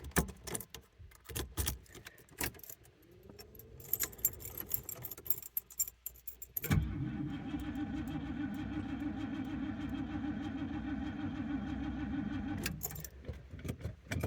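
A 1978 Lincoln Continental sedan with a 7.5L 460 V8 on a cold start: clicks and rattles first, then the engine catches and settles into a loud, steady low idle that runs for several seconds before cutting off abruptly.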